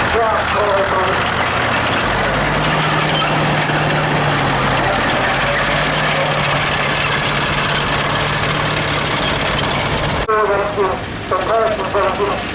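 A vintage tractor engine idles in the arena during an afternoon parade at a spring fair, a steady low rumble held close over the whole span, with a crowd and a commentator's voice over a public address system mixed in.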